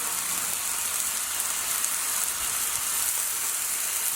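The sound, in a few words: bacon frying on a Blackstone griddle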